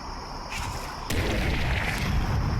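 An explosion in the zombie survival video game Cataclysm: Dark Days Ahead: a sudden loud burst about a second in, followed by a sustained rumbling roar.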